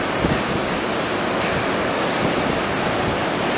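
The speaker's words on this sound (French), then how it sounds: "il y a quand même des vagues qui ouvrent" Ocean surf at Anglet beach, a continuous close roar of breaking waves with wind buffeting the microphone, steady and loud with no speech.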